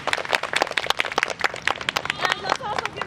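A summer drama camp audience claps for Nan and Kat after an Aladdin show, a brisk, dense patter of hands filling the room, fairly close and steady for a few seconds with a voice faintly under it.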